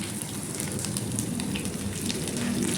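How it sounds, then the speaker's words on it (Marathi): Onion frying in a hot kadhai gives a steady, moderately quiet crackling sizzle that holds evenly throughout, heard close with no talking. "आता त्याच्यामध्ये कांदा टाकते मी,"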